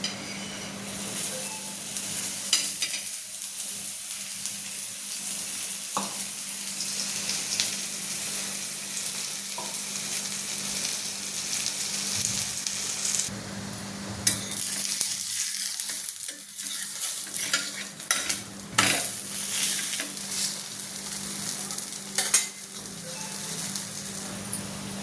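Upvas thalipeeth made with raw potato and sweet potato sizzles steadily in ghee on a pan, a continuous soft frying crackle with occasional pops and no talking.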